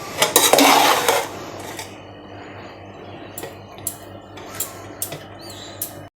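Metal spoon scraping and clinking against a pot while salt is stirred into cooked basmati rice, a busy burst of scrapes up front, then sparse light taps and clinks, close and fairly quiet with no talking.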